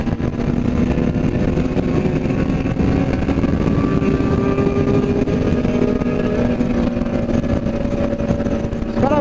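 A motorcycle accelerates on the road toward São Roque's wine route, its engine droning loudly and steadily with rising tones amid continuous wind and road noise.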